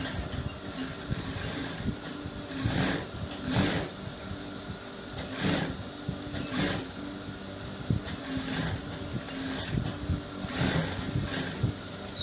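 A sewing machine stitches around a shirt collar for a bishop-collar short-sleeve button-down shirt, running in close bursts of rapid whirring that speed up and pause with fabric handling.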